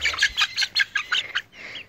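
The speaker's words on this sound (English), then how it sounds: "He's a splash rooster." A splash silkie rooster squawks in a run of about seven short, harsh calls at a steady rhythm, fairly close and loud, followed by a softer trailing call, with no talking.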